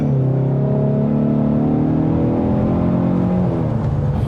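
A 2024 Ford Mustang GT V8 roars through a brake stand launch, engine note climbing steadily in pitch as revs build, loud and close with no talking.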